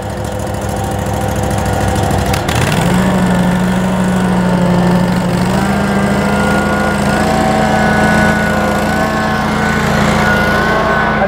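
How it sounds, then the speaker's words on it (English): Engine of a Grand LX vacuum truck idles low, then throttles up after a couple of seconds into a steady, loud, higher-pitched drone that holds and rises slightly mid-clip, with no talk over it. "And then I'm gonna have to throttle up."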